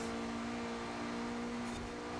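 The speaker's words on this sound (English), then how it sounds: "The turbo noise, yes." Turbocharged engine of a Toyota Supra in Forza Horizon 4, a steady mechanical drone with a sustained high turbo whine layered over it, moderately quiet and unbroken, with no voices.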